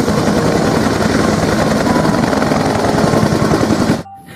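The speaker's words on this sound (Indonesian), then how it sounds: "Wah, ini helikopter." A yellow toy helicopter whirs with a loud, close, steady buzzing rattle for about four seconds before cutting off abruptly.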